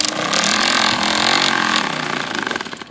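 A bicycle rigged with an open plastic bottle jammed against the wheel, cap off, rattles out a buzzy, motorcycle-like drone that holds steady, then fades and flutters as it slows.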